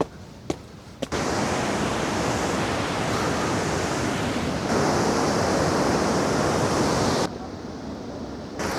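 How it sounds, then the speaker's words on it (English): Bow River Waterfall, about 30 feet high and 100 feet wide, roars as a steady broadband rush of falling water, continuous and loud for most of the stretch, with a quieter start and a softer drop near the end. "the height of the waterfall, Bow River Waterfall, is only about 30 feet, but the width is about 100 feet"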